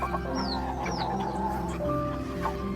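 Chickens in a cage cluck and squawk in a steady, busy chorus, with a few higher calls rising above the flock's continuous background chatter.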